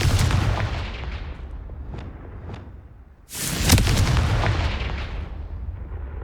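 Fire spell blasts in the Hogwarts Legacy video game: a loud booming explosion with rumbling tail at the start, fading, then a second sharp, powerful blast followed by sustained roaring crackle.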